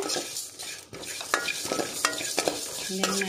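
Spices such as masala and coriander roast and fry in a pan for a spicy post-pregnancy curry, giving a steady close sizzle broken by stirring scrapes and a few clinks of a utensil against the pan.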